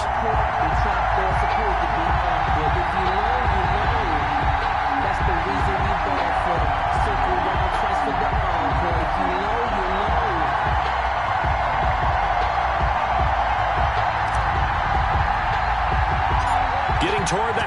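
A stadium crowd roars continuously in an EA Sports NFL game between the New York Giants and the Philadelphia Eagles, a dense steady wash of cheering under a commentator's voice.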